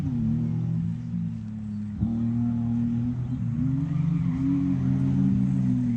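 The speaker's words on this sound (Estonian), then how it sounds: "nüüd driftiringid teile peale" A car drifting laps at a kart-track drift battle holds a steady engine drone with rising and falling revs, heard from a distance, with no talk.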